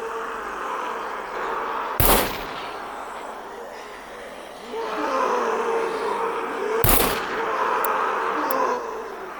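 Two sharp gunshots ring out in the survival video game SCUM, fired from a distance about five seconds apart, with low ambient game noise in between.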